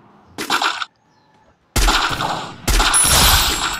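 Gunfire in the mobile battle game Free Fire comes in three loud, close bursts of rapid shots, split by short pauses of near silence.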